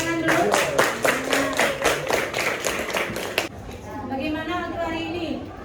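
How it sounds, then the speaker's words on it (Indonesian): Students in a biology classroom clap together in a quick, fairly even rhythm for about three seconds, then the clapping stops abruptly and a voice speaks. "Coba tepuk tangan dulu."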